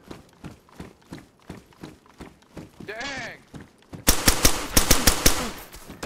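Gunfire in the DayZ video game: a dense burst of rapid shots near the end follows a stretch of footsteps and a brief whooshing sound, while players chat over voice.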